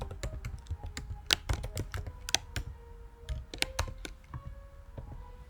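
Quick, uneven keystrokes clatter on a computer keyboard, close and fairly quiet, with short pauses between clusters of taps.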